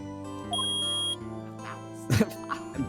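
A steady electronic beep tone from the game Ace Attorney holds for about half a second, followed by a burst of busy, chirpy noise and softer blips.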